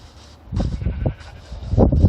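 Minecraft sheep bleat repeatedly, close and fairly loud, with a few overlapping wavering calls and no talking.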